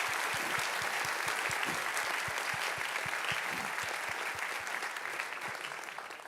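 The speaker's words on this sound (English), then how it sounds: "let's give them a warm applause for their thorough preparation and for being" The audience at a live debate event on whether God exists breaks into sustained applause, a dense, even clapping that fills the hall and fades slightly toward the end.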